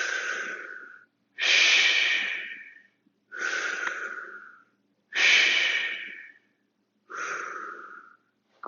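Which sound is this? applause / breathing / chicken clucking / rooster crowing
breathing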